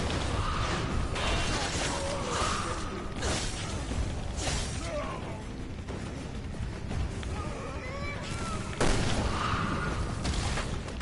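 Bursts of gunfire and a booming explosion in Resident Evil: Revelations 2, mixed with creaking mechanical game sounds in a busy, loud stretch of combat.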